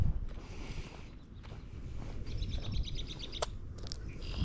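Small birds chirp at a campground on Lake Michigan early in the season, with a short run of quick, high tweets in the middle over steady outdoor wind and rustle.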